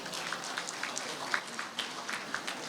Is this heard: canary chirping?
no